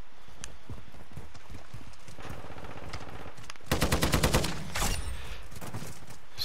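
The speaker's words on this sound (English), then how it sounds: "Dude ain't playing with that pistol, man." Pistol gunfire and horse hooves in a video game: steady clip-clop under a burst of rapid, loud shots in quick succession midway, then scattered shots, with no talking.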